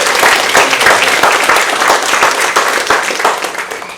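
A room full of people at a company all-associate meeting applauds loudly, with lively uneven clapping that swells and dips before tapering off.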